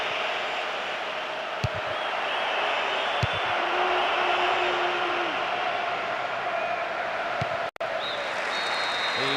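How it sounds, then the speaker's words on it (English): Stadium crowd in the football video game Winning Eleven PES 2009 roars and applauds steadily at an even level, with a few brief thuds and clicks over the dense noise. "that's really got the crowd going."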